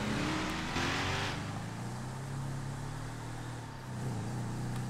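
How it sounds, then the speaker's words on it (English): Car driving past in a roleplay video game, a continuous engine drone holding a steady pitch with a slight rise and shift, fairly quiet and even, with no talking over it. "Oh, that's a not fast car over there."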